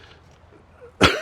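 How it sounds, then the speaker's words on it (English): A man recovering from a cold lets out one short, harsh cough close to the mic after a near-silent moment. "He says coughing his guts out."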